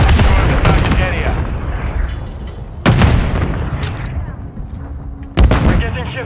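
Booming blasts from a sticky grenade in the video game Call of Duty Modern Warfare 3 hit loud and close, two sharp explosions spaced a few seconds apart over dense gunfire and game voice chatter.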